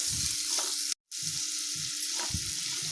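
Onions and curry leaves sizzle steadily in a small amount of hot oil, with a few soft stirring scrapes at a regular pace, close up and with no voices.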